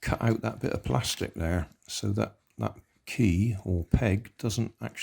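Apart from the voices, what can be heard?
No distinct noise like a dog, phone or traffic.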